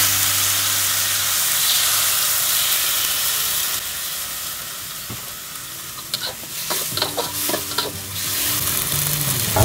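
Cabbage sprouts with bell pepper and oyster sauce stir-fried in a wok give a loud, steady sizzle and hiss, with scraping and clattering stirring in the second half.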